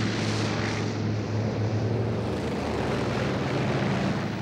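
Droning propeller engines of German bombers attacking Poland, a steady, loud, continuous low hum with no talk over it.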